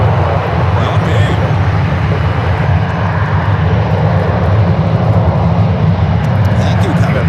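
Airplane taking off from runway 1 right at San Francisco International Airport, a loud, steady engine roar sustained throughout with a voice talking over it.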